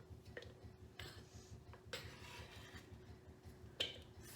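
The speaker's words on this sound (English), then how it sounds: "Okay, we're throwing them in the bowl." Chopped squash pieces are tossed into a bowl for enchiladas, giving a few soft, separate clatters and knocks against the bowl over faint kitchen background.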